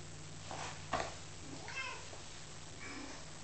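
A cat meows softly a couple of times against a quiet background hum, with a brief louder rustle near the start.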